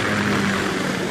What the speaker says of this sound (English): Kasatka? Kamov chopper, right?